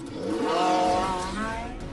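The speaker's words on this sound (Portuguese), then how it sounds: "Pise fundo no acelerador e os 3 motores rugem com toda a potência." A Porsche 918 Spyder hybrid, with its three motors, accelerates hard, sounding as a loud, rising engine roar that swells and holds for about two seconds with layered harmonic tones.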